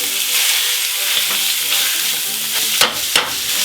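Sausage meat frying in a pan while a spatula breaks it into crumbs, a dense, close crackling sizzle throughout, with a couple of sharper scraping knocks near the end.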